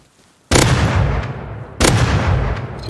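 Two loud, close shotgun blasts in the survival game Rust, each a sharp broadband crack with a long ringing tail, about 1.3 seconds apart after a brief quiet start.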